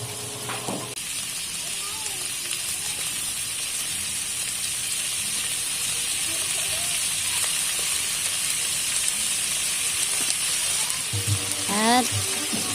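Eggplant hisses and sizzles steadily in a hot frying pan while cooking ginataang gulay, a continuous close frying crackle with brief clinks of utensils and some soft talk.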